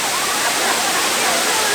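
Muddy Creek Falls, a creek waterfall, pours in a steady, loud, close broadband rush of falling water with no breaks.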